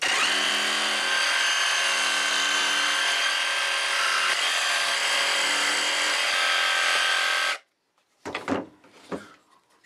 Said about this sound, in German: Also das mache ich jetzt mit der Stichsäge, säge ich mir das da mal unten raus.